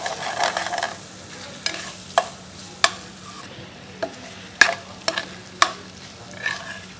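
Soaked sabudana khichdi being stirred in a hot pan: a spoon scrapes and knocks against the pan in irregular sharp strokes over a soft, low sizzle.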